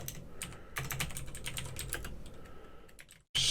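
A computer keyboard clatters with quick, steady keystrokes as a folder name is typed, close and continuous for about three seconds before a brief silence.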